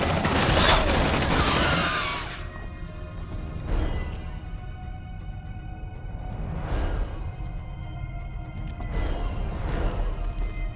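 Sentry gun in the sci-fi game Aliens: Dark Descent opening up, a dense burst of rapid automatic fire at first, then scattered sharp shots and blasts over a low droning background, no talk.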